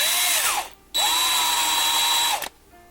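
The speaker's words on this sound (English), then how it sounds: "So I'm gonna drill out this little spot here for the dash." A power drill whines loudly in two bursts, a short one then a longer steady run, each spinning down as it stops, drilling out the metal dash area of a 1/64 scale NASCAR toy car.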